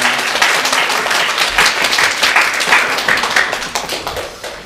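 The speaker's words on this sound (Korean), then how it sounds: "다 같이 박수로 축하하겠습니다." A church congregation at a Sunday worship service claps together to celebrate members' birthdays, a loud, sustained round of dense applause with no talk over it.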